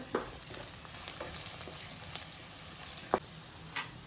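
Chicken curry with green chillies is stirred in a pan, making soft continuous frying sizzle at close range. A few sharp clicks of the spoon against the pan stand out.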